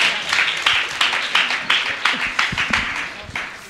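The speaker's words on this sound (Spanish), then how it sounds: "Aplaudan las hermanas." A crowd at a social justice gathering claps for the sisters, a moderately loud patter of hands with sharp individual claps standing out close by, rising and falling in uneven waves.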